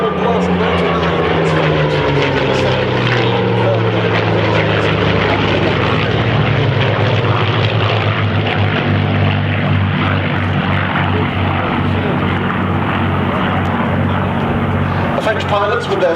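Loud propeller drone of a Hispano Buchon Bf109 and Yak-3 fighter planes flying at a Duxford airshow, with sweeping engine pitch shifts as they pass close and overhead, sustained throughout.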